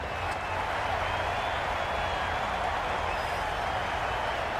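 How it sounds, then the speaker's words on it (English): Large cricket stadium crowd at an IPL match between Rajasthan Royals and Sunrisers Hyderabad, a steady loud roar of cheering and applause sustained throughout with no pauses, dense and enveloping. "Will you listen to the crowd?"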